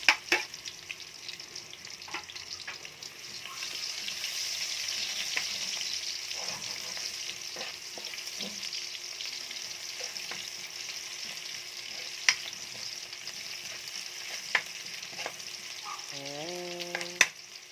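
Garlic and onion browning in a pan for a Filipino bitter melon and glass noodle sauté, a continuous, close frying sizzle with occasional clicks and a short beeping tone near the end.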